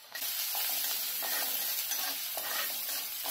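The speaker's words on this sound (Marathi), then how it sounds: "तेल आहे ना तापलंय, आपण जिरं टाकून घेऊया।" Cumin seeds hit hot oil in a pan and sizzle loudly with a bright, steady crackling hiss that starts abruptly and continues close up, with no voices.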